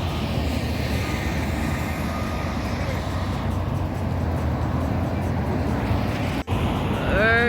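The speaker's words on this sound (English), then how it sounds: "Enjoy the sounds of the traffic." Street traffic in Montego Bay, Jamaica: a steady, dense roadway roar with no pauses, and a nearby vehicle passing with a rising engine whine near the end.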